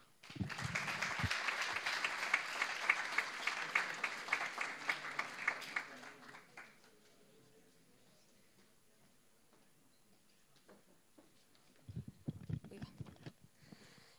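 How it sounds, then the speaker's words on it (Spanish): A crowd applauds steadily for several seconds, then the clapping fades out, leaving near silence before scattered voices come in. "Así que un fuerte aplauso para Alberto García y Victoria Martín."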